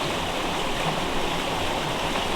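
A creek in Michigan flows steadily in spring, a loud, even rush of water that fills the whole short stretch with no pauses and no voices.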